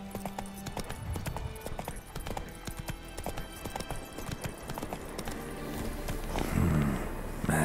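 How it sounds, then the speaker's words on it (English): A horse in The Witcher 3 video game clip-clops steadily with close, rhythmic hoofbeats, ending in a snorting whinny. "Was that Bessemer's horse just hanging out?"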